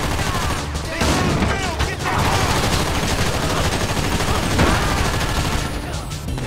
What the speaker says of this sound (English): Actually take cover and shoot at some dudes with actual accuracy.